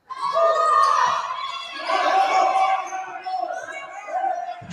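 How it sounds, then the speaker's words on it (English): A basketball crowd between the Indiana Legends and the Hoosier State Instigators swells into loud, sustained cheering and shouting across several seconds, with voices rising over the arena noise. "The crowd gets loud."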